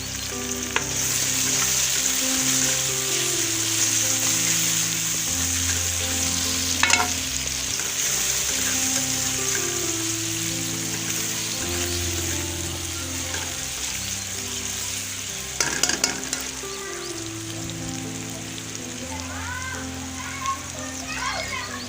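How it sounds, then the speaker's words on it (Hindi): Tomatoes dropped into golden fried onions in a home kitchen pan for a moong dal recipe give a steady, close sizzle with occasional scraping stirs. A melodic background tune plays throughout, and no one speaks. "प्याज हमारा गोल्डन हो गया है। अब मैं इसमें टमाटर डाल रही हूँ।"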